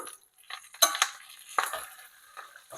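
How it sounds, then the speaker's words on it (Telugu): Curry leaves spluttering in hot oil in a pan while a chutney is made, giving a scatter of crackles and pops with a few bright clinks of a utensil against the pan, close but fairly quiet, with no talking. "ఇక ఇప్పుడు కరివేపాకు వేసేసుకోండి పట్ట పట్టప్ప పేలుతుంది కరివేపాకు"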